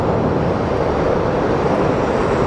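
A Southwest Airlines plane in Maryland One livery arrives at Sky Harbor with a steady, loud, broadband jet roar that holds constant throughout.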